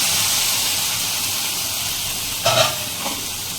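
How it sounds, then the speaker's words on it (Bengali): Rajma masala sizzles steadily in a hot pan, a constant frying hiss, then tomato paste goes in with a brief louder splutter and stir before the hiss settles again. "এবার এর মধ্যে টমেটো পেস্ট দিয়ে দিচ্ছি"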